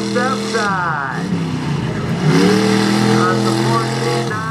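A one-ton step-side truck on 14-9 tires roars through a mud bog freestyle run, its engine rising and falling in loud surging revs as it hits jumps, with voices faintly underneath.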